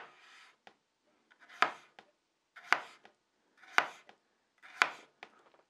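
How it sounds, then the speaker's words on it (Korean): A kitchen knife pull-slices on a cutting board, the blade stopping at the end of each stroke: four or five crisp, close knocks at even intervals, each trailed by a short scraping drag, in an otherwise quiet room. "그 다음은 당겨 썰기 마찬가지로 보여드리면 이렇게 딱 끝나는 부분에서 칼을 멈춰 주셔야"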